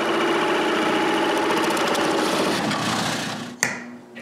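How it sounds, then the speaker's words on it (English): A power drill bores bearing holes in wood while building an edge sander, a steady loud whirring drone that runs for over three seconds before spinning down, followed by a sharp click. "Then I need to drill new holes for the bearings."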